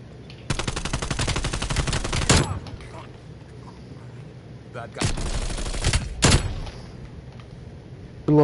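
Two long bursts of rapid automatic gunfire from Call of Duty Warzone, each about two seconds with a heavier blast at its end, loud and close, separated by a quieter gap with faint game ambience.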